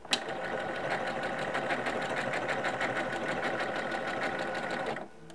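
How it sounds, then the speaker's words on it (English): A Janome M17 sewing machine runs steadily while stitching decorative stitches, a fast even mechanical whir with rapid rhythmic needle clatter, close and continuous for about five seconds before stopping abruptly. "So let's say I'm coming up the edge here."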